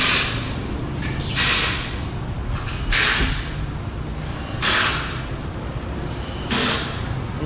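Cleaner sprayed onto the CVT of a Yamaha scooter during home cleaning, four separate hissing bursts of about a second each at a steady interval, fairly close, over a low background rumble.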